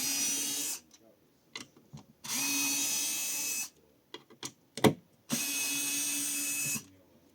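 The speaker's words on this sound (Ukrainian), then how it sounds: "Давайте спробуємо відкрутити. Так, змінимо крутний момент." DWT ASCP-04 cordless screwdriver unscrewing a screw, three steady motor whirs of about a second and a half each, separated by clicks and handling knocks, close and fairly loud.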